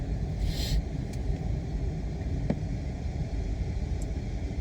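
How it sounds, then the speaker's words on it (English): High-voltage cooling fans on a Ford Escape or Mariner hybrid run with a steady, broad whooshing drone and low rumble, continuous and fairly close, with no talking over it. "You can hear the fans back there running,"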